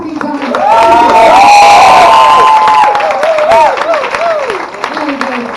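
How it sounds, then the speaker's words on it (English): Comedy club audience at a beginner stand-up student show in Berlin, loud cheering, whooping and applause swelling for a few seconds before easing into scattered shouts and clapping, with voices calling out over it. "Give him a round of applause."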